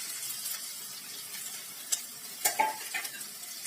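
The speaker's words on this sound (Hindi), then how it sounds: "इसे भूनेंगे और इसमें फिर डालेंगे अपने कीमे को।" Minced meat sizzling steadily in a hot pan for stuffed tomatoes, with a few soft scrapes and clinks as it is stirred.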